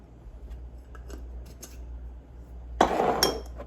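Ground ginger shaken from a container into a pot of soup: a few faint light taps, then a louder burst of rattling, scraping clatter near the end, all close up with no talk.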